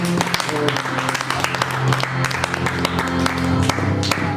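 Church congregation clapping in a sermon hall, a dense spread of hand claps with a steady low hum and some voices mixed underneath.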